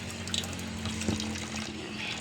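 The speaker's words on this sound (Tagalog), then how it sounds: "Ibabad na natin dyan sa tubig." Fish, dried hard as stone, is set into water to soak, with a faint splash and trickle over quiet running water, close by and brief.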